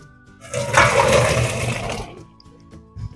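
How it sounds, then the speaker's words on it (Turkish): A short burst of rushing water pours and drains from cooked couscous in a strainer for about two seconds, then stops, leaving quiet kitchen sounds. "Kuskus da oldu. Onu da süzelim."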